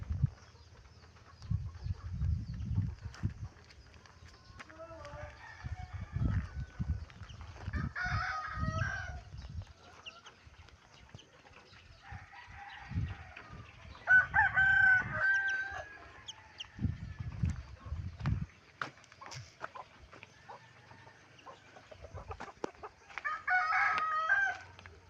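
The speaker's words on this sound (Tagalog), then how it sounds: "Basa na naman mga manok namin" Wet chickens and a rooster in a home yard during rain, with the rooster crowing several times over scattered clucks and low background thumps, moderately near.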